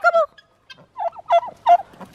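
A tom turkey gobbles several times in quick succession, close and loud, with short rattling bursts separated by brief pauses and a few softer calls between.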